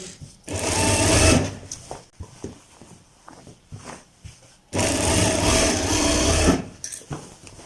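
A sewing machine runs in two loud, steady bursts while stitching a kalidar kurta, with short quiet handling sounds between the runs.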